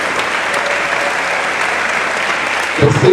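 Steady, dense applause from an audience at a student event, continuous and fairly loud for about three seconds before a voice cuts in at the very end.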